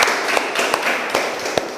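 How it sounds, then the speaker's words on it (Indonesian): A classroom of students claps for a classmate after her drama performance, with scattered, uneven claps and a few sharper slaps over a steady background of room noise. "tepuk tangan untuk Renti"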